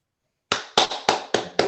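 Applause for inductees at a virtual induction ceremony: five or six sharp, separate claps in slow succession, close and fairly loud, after a brief silence, sounding like a single person clapping rather than a crowd.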